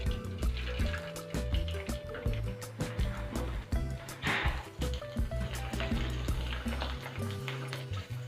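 Rice papad is dropped into hot oil and fries with steady bubbling and sizzling, close and fairly quiet, with a few clinks and faint background tones.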